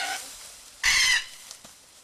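A cockatoo at a wildlife haven for injured birds lets out a single harsh, loud screech lasting under half a second, nearby, with faint bird calls before and after.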